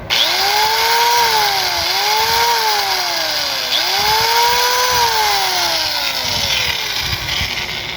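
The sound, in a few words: angle grinder running after bearing replacement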